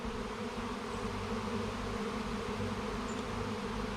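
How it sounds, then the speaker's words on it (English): A swarm of honey bees buzzes steadily on a deck, a dense, continuous drone heard close up with no talking. "I got bees everywhere on my deck."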